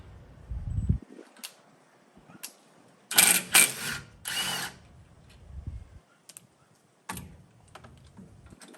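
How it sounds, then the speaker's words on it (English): A power tool loosens the rear brake caliper bolts on a 2014 Ford F150, with a few loud close bursts of whirring and ratcheting separated by quiet pauses and small clicks. "Go ahead and remove your 2 bolts on the back."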